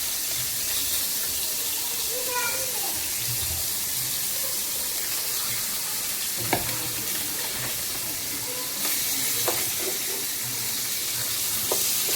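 The remaining pieces of rohu fish are dropped into hot oil and fried, giving a dense, steady sizzle close by with occasional small clicks and stirring knocks, and no talking.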